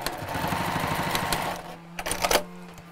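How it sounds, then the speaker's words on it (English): A sewing machine stitches straight across the raw edges of a curved-top tote bag in a fast, even, rhythmic run for about a second and a half, then stops, followed by a few sharp clicks and handling knocks. "we're going to sew straight across"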